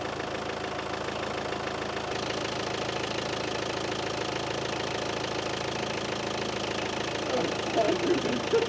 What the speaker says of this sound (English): You'll hear the engine.